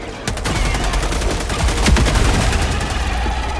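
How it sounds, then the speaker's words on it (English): Rapid, loud automatic gunfire rattles continuously in the Helldivers 2 video game, dense bursts of shots layered over heavy rumbling combat noise. "I'm shooting."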